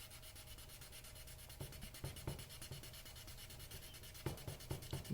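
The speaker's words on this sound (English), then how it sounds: "You can see how I'm being more generous in how much of the daggerboard I'm sanding." 1200-grit sandpaper rubs over the gel coat of an ILCA dinghy daggerboard in quick, faint, fine strokes, close up and quiet, with light taps and knocks scattered through.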